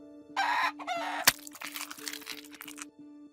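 A chicken squawks and clucks in agitated bursts just before being slaughtered, with a sharp crack midway and steady close cackling afterward, heard alone without talk.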